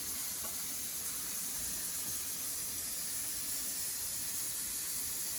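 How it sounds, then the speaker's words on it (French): Water runs steadily into a pot of beets, a constant broad hissing rush that stays even and close for the whole stretch, with no talking. "On rajoute de l'eau."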